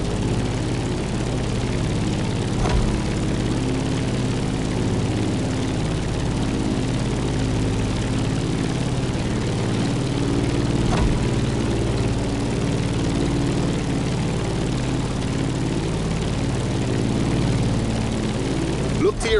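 Propeller airplane engine droning steadily while climbing in the racing game The Crew Motorfest, a loud continuous hum with a few faint clicks over the near twenty seconds.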